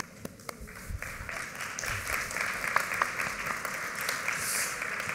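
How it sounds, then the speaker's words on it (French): Audience applause at a forum on marine and coastal landscapes, many hands clapping in a room, starting thin and swelling into a fuller, sustained patter that holds steady to the end. "Donc, normalement, on applaudit."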